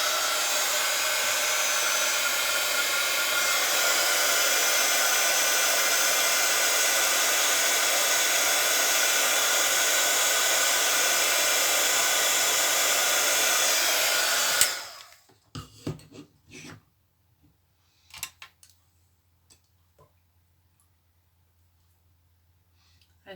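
A hair dryer blows steadily and loudly for about fifteen seconds while drying wet watercolor paint on a jewelry box, then cuts off, leaving quiet handling sounds.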